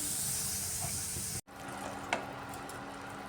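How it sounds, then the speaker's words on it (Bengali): Spice paste frying in a pan just after water is added, giving a steady close hiss of steam and sizzle with a brief drop partway through. "একটু জল দিয়ে মশলাটা আমি কষিয়ে নিচ্ছি"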